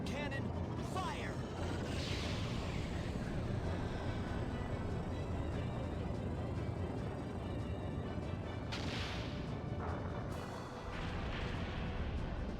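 The Moonstone cannon fires in the game Skies of Arcadia Legends, heavy booming blasts and rumbling impacts layered over dense game noise, with someone talking across it.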